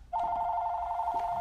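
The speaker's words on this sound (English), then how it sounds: "Sorry about the phone again." A telephone rings in a busy plus-size clothing shop, one steady electronic ring tone sounding loud and close for the whole stretch with no talk over it.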